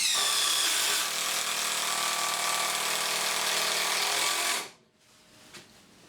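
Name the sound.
screws driven into 3x2 timber by Milwaukee 12V and DeWalt 18V impact drivers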